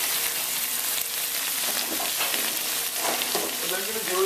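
A ladle of stock hits a hot pan of portobello mushroom and spring onion risotto, sizzling loudly and steadily while a spatula stirs through it with scraping and bubbling, close up and without talk.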